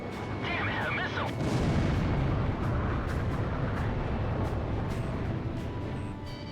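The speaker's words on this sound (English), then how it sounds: "Damn it, a missile!" Missile attack in the video game Ace Combat Zero, a dense roaring rumble of explosions and jet engine noise that stays loud and steady throughout, with a short voice line near the start.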